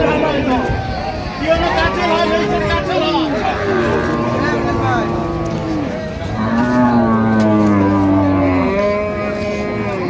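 Several cattle, including milk cows with calves, moo loudly and repeatedly over a busy crowd of people chattering at a rural cattle market, a dense livestock-market din with overlapping lowing calls.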